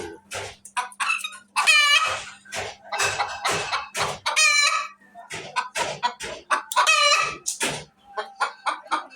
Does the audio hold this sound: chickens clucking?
yes